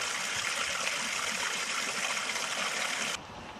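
Water drains steadily from a koi pond filter tub with a continuous gushing, trickling rush that holds even for a few seconds and then drops to a quieter flow near the end, with no voices.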